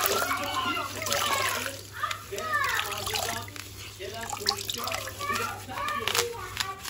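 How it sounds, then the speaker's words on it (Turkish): A mop cloth is swished and splashed in water during floor cleaning, giving close, irregular sloshing and dripping. A person speaks Turkish over it, and a steady low hum runs underneath. "Bezimi yıkayacağım tekrardan."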